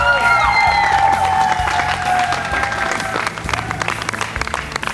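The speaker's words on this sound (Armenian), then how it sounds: "Դե ինչ, եվս մեկ անգամ ծափարենք, Մուշեղ Խաչատրյան" A talent show audience applauds a contestant, with dense clapping and some cheering that follow a brief tonal musical sting, growing choppier toward the end.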